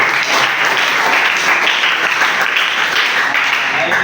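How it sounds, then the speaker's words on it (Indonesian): Audience in a classroom lecture setting clapping steadily throughout, a loud continuous wash of applause with no pauses. "Ya, kasih aplaus lagi."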